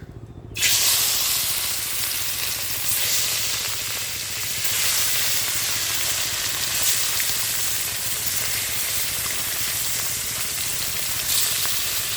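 Rohu fish frying in hot oil gives a loud, steady sizzle that starts abruptly and hisses continuously throughout, with slight stirring shifts and no talking.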